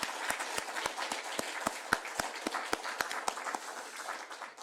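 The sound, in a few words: church congregation applauding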